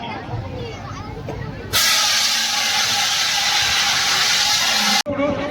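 A loud, steady hiss of water poured on a fire bursts in and holds for about three seconds, then cuts off abruptly, with quieter background noise and murmuring before and after.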